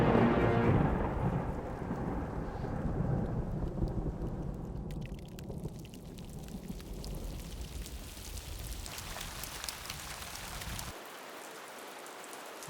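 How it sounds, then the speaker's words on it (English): A rainstorm in a family film: rumbling thunder rolls over steady rain hitting surfaces, a deep heavy roar that eases into a softer patter before dropping away at the end. "It's raining"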